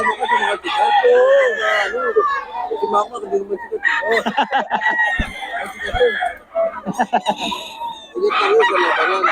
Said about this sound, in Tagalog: Ito mga manok ni Boss Perry.